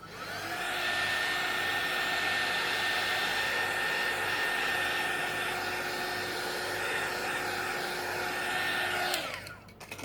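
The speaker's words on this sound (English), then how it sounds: "let's give it a little blast of from the heat tool, just to make sure the ink is set so it won't smear" A heat tool blows a steady, loud whooshing hum for several seconds to set ink on an art journal page, running unbroken before cutting off abruptly near the end.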